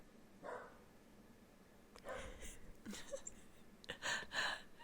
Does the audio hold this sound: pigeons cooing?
no